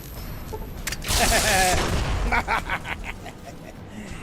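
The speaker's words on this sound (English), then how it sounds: "Grenade going out." A grenade blast in the game Fallout erupts as a loud, close burst with crackling debris and a rumbling tail that fades over a few seconds, with a voice faintly audible.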